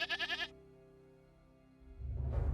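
A goat gives a short, quavering bleat in several quick pulses, fairly close. A low rumble rises after a quiet pause.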